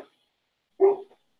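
A dog gives a single short bark at a distance, briefly heard in an otherwise quiet room.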